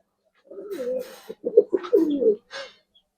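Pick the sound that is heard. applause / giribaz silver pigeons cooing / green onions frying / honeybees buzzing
giribaz silver pigeons cooing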